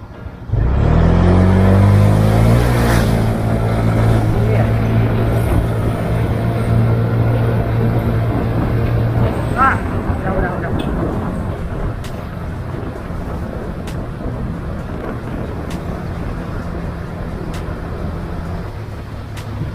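A Honda Beat scooter with an upgraded Kirian CVT pulls away from a standstill, its engine droning loudly and rising in pitch, then settling into a steady run under heavy wind rush.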